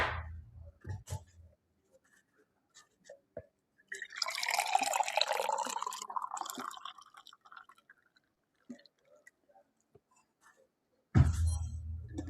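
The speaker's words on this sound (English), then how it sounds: "I think that deserves a pour." A drink being poured into a glass, a few small clinks and drips, then a few seconds of steady liquid pouring with a rising gurgle, close and quiet, ending with a knock.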